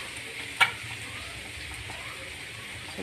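Vegetables for chow mein fry in a pan, giving a soft, steady sizzle with one sharp clatter early on, quiet and without speech.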